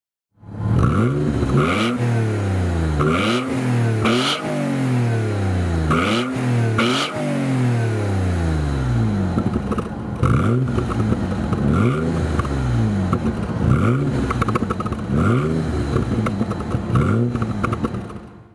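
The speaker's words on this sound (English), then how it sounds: "just take a listen to this glorious exhaust sound of the Busso V6 engine" A high-mileage Alfa Romeo 156 with the Busso V6 engine is revved through its exhaust in a series of loud, close throttle blips that rise and fall, then settle into a rougher, burbling rhythm.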